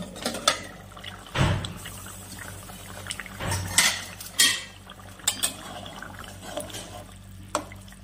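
A metal lid comes off a cooking pot where potatoes and pumpkin shoots have been simmering, giving a few sharp clanks and scrapes with a soft, bubbling kitchen background between them.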